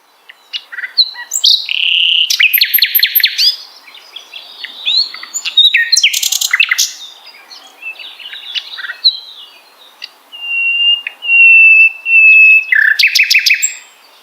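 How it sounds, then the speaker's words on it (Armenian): Songbirds sing in a series of bright, rapid chirps and trills with short pauses between phrases. The calls are clear and close against a quiet background, and there is no talking. "Թռչունները, ինչպես սոխակները կամ ճայերը, երգում են, իգականին գրավելու ու տարածք պահելու համար։"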